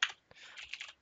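A short burst of keystrokes on a computer keyboard entering a WinDump command, soft quick clicks close by in a quiet room.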